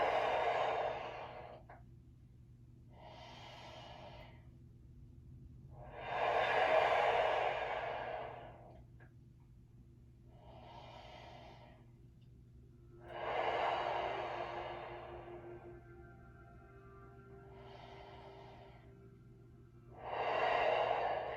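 Slow, deliberate breaths while a stretch is held in a guided stretch-and-flex class: several long exhale bursts, some louder and some softer, arriving every few seconds with quiet pauses between, heard close and with no talking.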